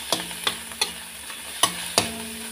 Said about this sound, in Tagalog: atin na pong halu-haluin hanggang sa magbango siya. Nilagay ko na po ang ating chicken shredded